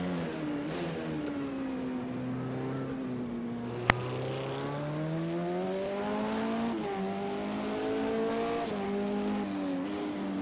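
Bentley LMP900 prototype race car in Project Cars 2 on the Snetterton circuit, its engine a steady loud drone with rising and falling pitch through gear changes, one sharp click partway through, no talk.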